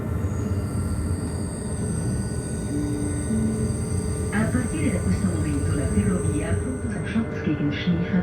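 The Bernina Express train runs downhill through the Swiss Alps near Lago Bianco, giving off a steady low rolling rumble and a faint whine from the cabin. A voice starts talking over the noise partway through.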